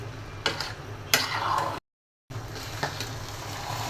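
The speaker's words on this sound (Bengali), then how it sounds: "এই তো হয়ে গেল ঝটপট করে জর্দা রান্না করা" Zarda, a sweet rice dish, being stirred and fried in a pan: soft scraping strokes and a low sizzle, with a few sharper clicks, broken by a brief silent gap.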